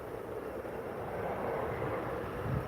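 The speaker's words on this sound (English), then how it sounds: "just making its way out now is Ethiopian Airbus A350" An Ethiopian Airlines Airbus A350 airliner taxis out for departure at Manchester Airport, giving a steady, distant, low jet-engine rumble and whine that holds faintly and evenly throughout, with no talk.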